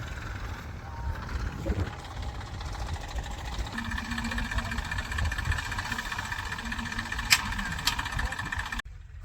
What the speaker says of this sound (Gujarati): હવે ટ્રેક્ટર આવી જઈશ